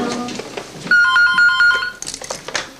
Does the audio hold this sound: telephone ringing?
yes